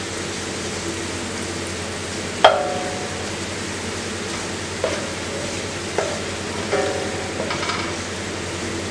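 Onions for Malabar chicken biryani fry in a pan with a steady sizzle. A sharp metallic scrape or stir is heard near the start, followed by several softer stirring clinks, with no talking.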